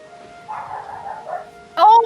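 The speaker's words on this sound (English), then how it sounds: "Oh my god, dogs!" Dogs bark in an anime soundtrack, first as muffled low yips under a steady tone, then as a loud, sharp burst of barking near the end.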